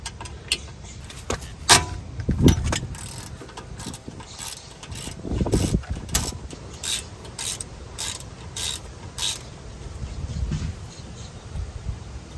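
A ratchet wrench works a big 13mm bolt on the front brake of a Mercedes ML63 AMG during a pad change, giving bursts of quick clicking with metallic clunks and handling noise, close and fairly loud, with no speech.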